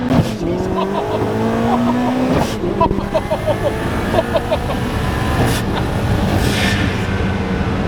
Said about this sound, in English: That turbo sound, boys! Like the spool up and then the blow up.